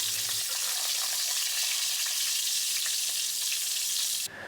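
Pork fries in a pot for a beer-stewed pork and potato stew, a loud, even sizzling hiss that holds steady and then cuts off abruptly just before the end.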